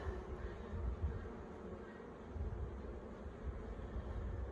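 Honey bees from a weak, starving colony buzzing in an opened Flowhive 2 hive, a low continuous hum that swells and eases slightly, fairly faint and steady.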